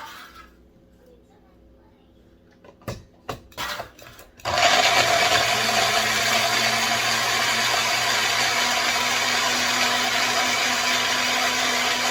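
A small blender purees jarred peppers and garlic for homemade sriracha, switching on after a few clinks and handling sounds into a loud, steady whirring motor drone that runs continuously to the end.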